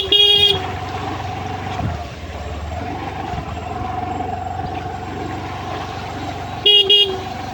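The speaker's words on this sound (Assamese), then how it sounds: "হৰ্ণটো মাৰি দিব লাগে" A car horn honks loudly on a road near a turning, with a long blast at the start and another short burst near the end over steady engine and traffic noise.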